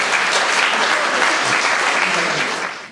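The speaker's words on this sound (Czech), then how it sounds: "A to stojí teda za potlesk." An audience claps steadily and loudly at a Prague gathering marking the 40th anniversary of educational-psychological counselling centres, a dense sustained applause that tapers off at the end.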